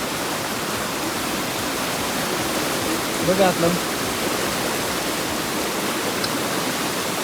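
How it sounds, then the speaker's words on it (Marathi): A river running full and swollen after heavy monsoon rain, its steady broadband rush of water holding throughout near the bank, with a voice speaking briefly over it midway. "बघा नदी किती फुल भरून चालू झालं."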